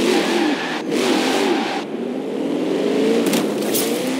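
Car engine in Forza Horizon 4 revving hard through a tight drifting bend, a loud continuous roar that dips briefly and surges again, with no voices.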